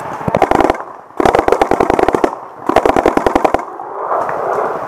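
Bursts of rapid shots from a four-barreled paintball gun with an integrated trigger and air system, fired outdoors in woods, in three dense volleys of sharp cracking pops separated by short pauses, loud and close.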